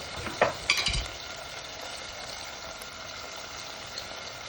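Green beans sautéing with tomatoes in a pan: a steady, close sizzle runs throughout, with a few early clanks and scrapes of a spoon stirring against the pan.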